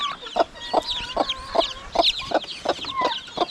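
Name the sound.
chickens clucking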